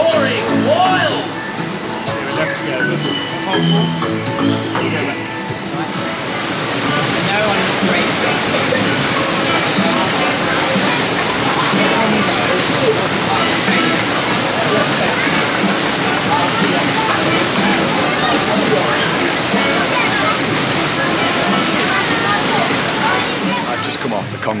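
Rushing, roaring water on the Congo River Rapids raft ride at Alton Towers, a dense broadband wash that swells after a few seconds and holds steady and loud, with voices faintly mixed in.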